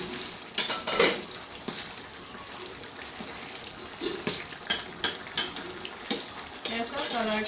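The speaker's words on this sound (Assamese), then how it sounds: "মই এবাৰ এইখিনি লৰাই দিম।" A spoon stirs a vegetable curry with jackfruit (kothal sabji) in a pot, making irregular metallic scrapes and clinks over a soft simmering background, fairly close.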